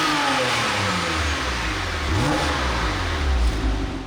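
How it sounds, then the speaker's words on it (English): A Porsche 997 911 Targa with its factory-optioned sport exhaust revs up in a steady, throaty rise, holds near and loud, then swells into a second blip toward the end, with no talking over it. "That is a factory sport exhaust that this car was optioned with back when it was new"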